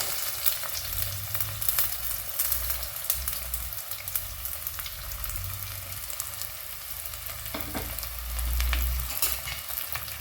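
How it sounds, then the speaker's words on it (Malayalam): Onions fry with ginger and garlic in a pan for a fish curry, giving a steady sizzle with soft stirring scrapes and occasional low thumps, all fairly quiet and close. "ഉള്ളി നല്ലൊന്ന് വഴറ്റി കൊടുക്കുക."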